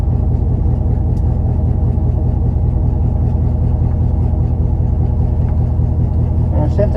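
A Chevrolet Camaro SS, run with FBO modifications and used for index drag racing, rumbles steadily for several seconds with a dense, loud, low engine drone, as if heard from inside the car between passes.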